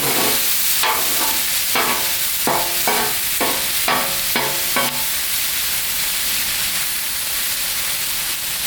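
Shaved strip steak and onions cooking on a Blackstone griddle, a loud steady sizzle with a quick run of spatula scrapes and taps in the first half, then just the continuous frying hiss.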